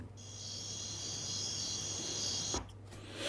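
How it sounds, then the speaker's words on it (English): A machine gives off a continuous, cicada-like electronic trill at a steady pitch, close and sustained for several seconds, then cut off sharply near the end before it resumes. "It sounds like a cicada, not a cricket."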